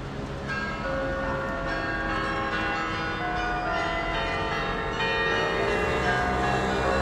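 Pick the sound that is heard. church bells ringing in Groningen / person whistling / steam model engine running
church bells ringing in Groningen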